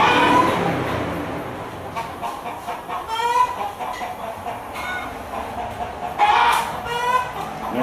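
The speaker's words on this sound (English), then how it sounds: "Chickens do that when they lay an egg" A hen clucks after laying an egg inside a coop, repeated rising squawks and cackles at moderate distance over the steady whir of a running fan and rustling background noise.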